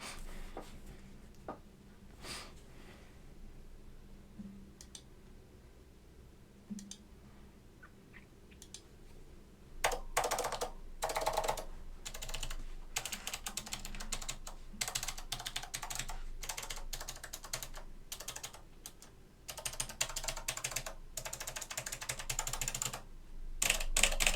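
Typing on a restored Northgate OmniKey 102 keyboard with Alps SKCM Blue switches and no keycaps fitted, quiet scattered clicks at first, then brisk, dense, fairly close clacking that grows louder toward the end.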